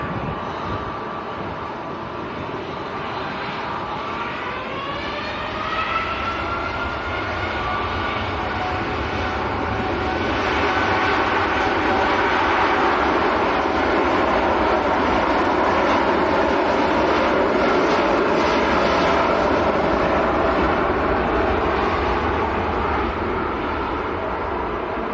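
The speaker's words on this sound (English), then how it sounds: "Looks like this could be a turn and burn. Here we go. Etihad to Abu Dhabi." An Etihad airliner rolls out and climbs away from Manchester Airport bound for Abu Dhabi, a loud jet roar that swells and holds steady for over twenty seconds, heard from outside at the airfield.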